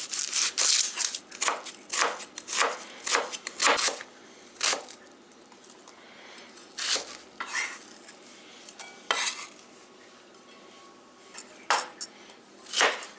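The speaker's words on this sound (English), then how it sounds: "Dice the onion." A knife dices an onion on a cutting board, in quick uneven runs of crisp taps broken by pauses.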